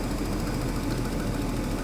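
An old Jaguar engine runs roughly at a steady idle, a dense mid-pitched mechanical clatter with an uneven, knocking texture throughout and no talking.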